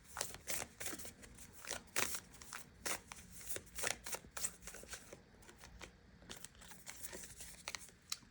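A deck of oracle cards is shuffled in close, crisp bursts of riffling and flapping that repeat steadily and fairly softly, with no talking.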